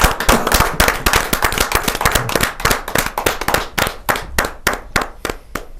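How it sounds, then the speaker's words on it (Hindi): Loud, close applause welcoming a renowned Urdu poet at a Hindi kavi sammelan: sharp, rapid individual claps from a modest audience, crisp and distinct, gradually thinning out toward the end. "मैं बड़े जोरदार तालियों के साथ स्वागत करता हूं"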